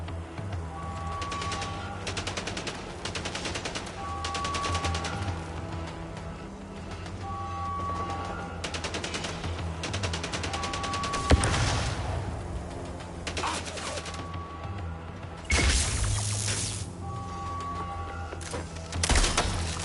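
Repeated bursts of enemy gunfire in the video game Mindseye, sharp volleys recurring every few seconds over a steady game soundscape, with a few louder close shots standing out.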